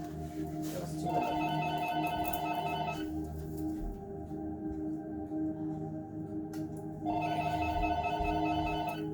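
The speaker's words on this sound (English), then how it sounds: "Sorry about the ringing of the phone." A telephone rings in two long trilling bursts, the first lasting about two seconds and the second starting after a quiet pause, heard indoors at moderate distance.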